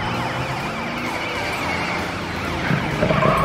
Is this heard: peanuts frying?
no